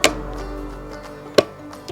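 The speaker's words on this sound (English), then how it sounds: "so this is the tray. It just simply clips into the bottom" A plastic tray clips into the underside of a Cadac Carri Chef 2 camping stove, giving one sharp snap midway and a softer click near the end over a quiet background.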